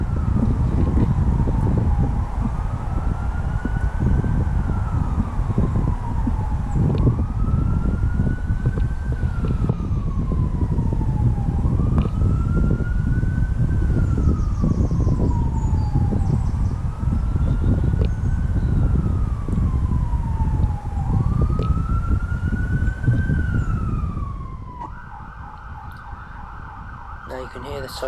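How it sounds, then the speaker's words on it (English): An emergency siren wails slowly up and down in long repeating cycles, somewhat distant, over heavy rumbling wind noise, then cuts off near the end. "Now you can hear the sirens in the background,"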